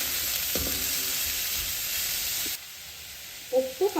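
Chopped tomato sautés in a pan with other ingredients, a soft steady sizzle under light stirring scrapes, quieter after a brief moment, with a few small clinks near the end.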